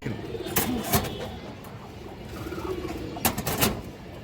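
A pair of old-line khoragola pigeons coo softly and repeatedly at close range, with a few sharp rustling bursts over a steady low background.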